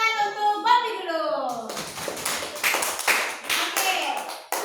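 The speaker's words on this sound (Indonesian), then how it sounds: "Tepuk tangan untuk Gompi dulu." A class of children in an Indonesian fourth-grade science lesson claps together after a voice, a lively burst of close, fast, uneven applause that carries on steadily to the end.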